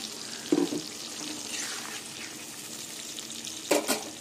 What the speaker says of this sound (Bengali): মিক্সি বাটি ধোয়া জলটা দিয়ে দেবো।